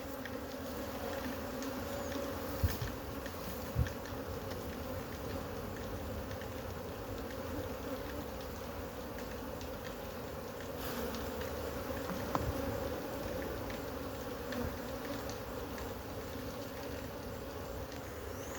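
A swarm of Africanized bees buzzes steadily in the wild in Guyana during a colony capture, a dense continuous drone at close range with a few faint knocks and no talk.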